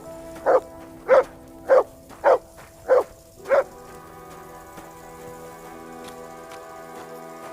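Mutt, the dog in Kingdom Come: Deliverance, gives six evenly spaced barks, loud and near, over a soft steady background of in-game ambience and music with no talking.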